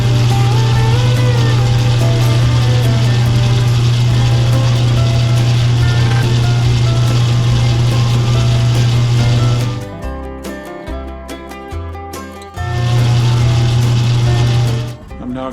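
Lathe machining a Grade 5 titanium ring on a ring mandrel, a loud steady motor hum with a continuous cutting whine that briefly drops out and returns, close and constant throughout.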